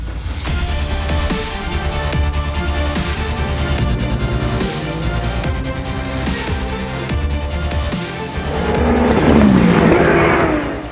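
Race cars, including a BMW, pulling away at the start of a race at the Ledenon circuit, a loud, continuous engine roar layered with many revving motors that swells near the end as the field accelerates past.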